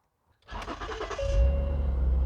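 A Ford Flex engine cranks briefly and catches, then settles into a steady, low idle after an exhaust flex pipe repair, heard nearby and alone.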